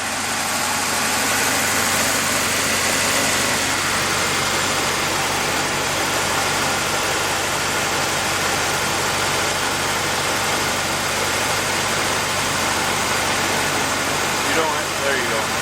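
A 1968 Chevy C10 engine, running again after sitting for ten years, idles steadily and loudly up close with a constant rumbling drone, while voices talk over it.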